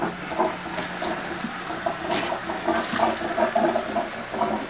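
A water filter starts up as water begins flowing, a continuous gurgling, splashing trickle with bubbly patter, heard close and moderately loud.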